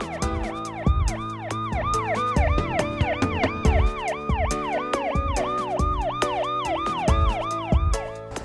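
An ambulance from a free emergency service in the Delhi NCR region sounds its siren, a loud, close, rapidly rising and falling wail repeating steadily, with rhythmic horn blasts and traffic rumble underneath.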